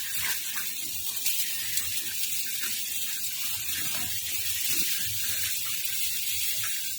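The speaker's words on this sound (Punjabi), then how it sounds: "ਹੁਣ ਆਪਾਂ ਦੋ ਤਿੰਨ ਵਾਰੀ ਪਾਣੀ 'ਚ ਧੋ ਲਵਾਂਗੇ ਮੇਥੀ" Fenugreek leaves are rinsed in water, with a continuous splashing, rushing wash and a few small clicks and knocks throughout, close and steady with no voices.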